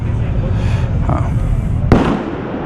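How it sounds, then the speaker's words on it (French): Firecrackers pop amid the rumble of a large motorcycle convoy, with a sharp close crack near the end standing out over continuous engine noise. "Les pétards."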